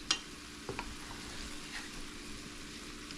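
Taco meat simmering in a pan for a burrito bake, a quiet steady sizzle with a few soft clicks of a utensil near the start.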